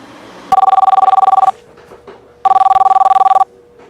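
A telephone rings in two bursts of rapid electronic trilling, each about a second long and separated by a pause, close and loud with no talk.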